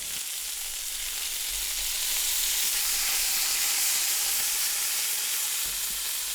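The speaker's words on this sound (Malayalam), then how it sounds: "അതിനുശേഷം നന്നായി ഒന്ന് ഇളക്കി മിക്സ് ചെയ്യാം." Banana and jaggery are stirred in a hot pan for a Kerala-style dessert, producing a steady, close sizzling hiss with soft scraping underneath. It carries on at an even loudness with no talking.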